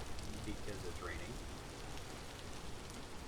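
Rain falling in the survival video game Vintage Story, a steady, soft broadband patter of drops that hisses on without a break at low volume.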